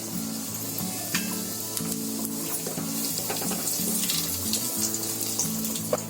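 Whole spices, star anise and a little cumin, sizzle steadily in hot oil for a Bombay biryani, making a continuous close hiss with small crackles. A faint tonal hum sits underneath, and no voice is heard.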